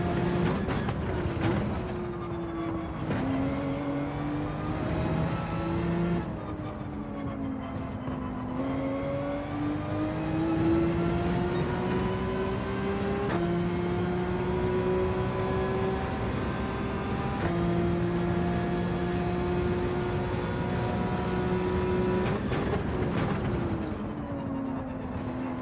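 A Porsche race car in Gran Turismo 7 drones steadily through a race, its engine pitch rising and falling with shifts and throttle changes, loud and continuous with no voices.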